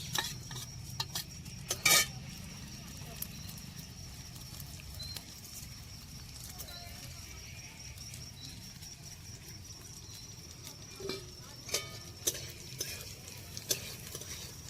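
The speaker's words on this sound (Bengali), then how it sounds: "ঘিটা গরম হয়ে গেছে, আমি চালটা দিয়ে দিচ্ছি।" Gobindobhog rice frying in hot ghee in a pan, a soft, quiet sizzle under scraping strokes of a spoon and occasional sharp metallic clinks against the pan.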